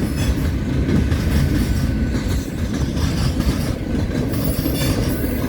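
A westbound train in Fremont, Nebraska, coming off the old C&NW main line onto the UP Transcon line, rolls past close by with a continuous loud rumble, wheel clatter and faint squeal.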